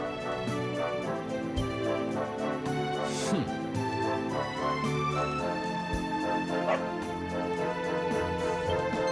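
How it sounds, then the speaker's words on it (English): Dog barks in a Dragon Quest 11 cutscene, a few sharp yips and bow-wows over a busy bed of orchestral music and game effects. "No! Not a dog! Anything but that!"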